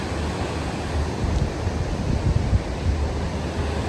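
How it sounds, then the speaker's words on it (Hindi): Glacier meltwater stream pouring into a lake at night in Skardu, a steady broad rushing wash heard from a short distance, continuous and even with no voices. "ये शोर सुनाई दे रहा है, ये ग्लेशियर मेल्ट होके और चश्मे का पानी इधर लेक में आ रहा है।"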